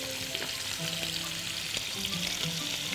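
Garlic and cumin frying in a pan for Asian-style shrimp, a steady close sizzle with light stirring clinks over it and no talking.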